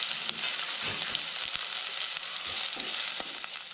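Chopped onion goes into hot oil with fennel seeds for tomato rice. A close, steady sizzle and crackle runs without a break, with light stirring noises mixed in.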